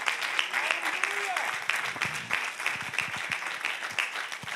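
A church congregation claps hands in praise during a sermon, a steady mass of clapping with scattered cheers and voices mixed in, fairly close and sustained throughout.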